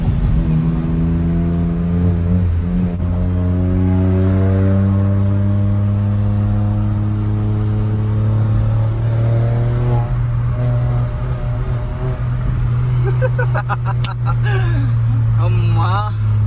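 A VW Polo 1.0 TSI with a modified exhaust idles and revs, producing a steady, loud engine drone whose pitch climbs and falls through several rev swells, ending in sharp crackles, with someone talking over it throughout.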